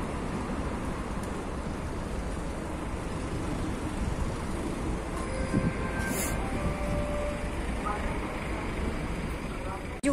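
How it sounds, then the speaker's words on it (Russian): A train rumbles steadily at Voronezh railway station, a constant low mechanical drone with faint squeals and clanks, heard close by while people talk. "А вон стоит наш паровоз,"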